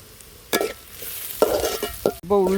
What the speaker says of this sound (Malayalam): നന്നായിട്ടൊന്ന് ഇളക്കി കൊടുക്കുക, കരിയാൻ പാടില്ല